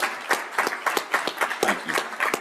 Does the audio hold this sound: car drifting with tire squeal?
no